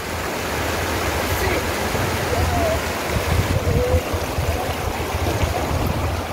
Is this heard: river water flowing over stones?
yes